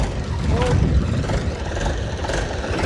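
A second-hand tractor engine runs steadily at a farm tractor market, giving a continuous low rumbling drone throughout, with a voice faintly present over it.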